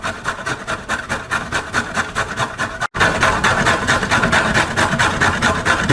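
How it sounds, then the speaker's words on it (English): A carrot is rubbed briskly against a metal grater for a salad, giving a rapid, even rhythm of scraping strokes, loud and close, with a tiny gap midway before the shredding resumes. "So we'll just kind of shred here."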